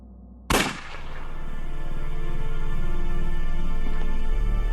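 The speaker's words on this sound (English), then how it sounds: "Was that a gunshot?" A single sharp gunshot cracks in the Unavowed video game, loud and sudden after a quiet start, then dissolves into a sustained low rumbling hum that builds and lingers to the end.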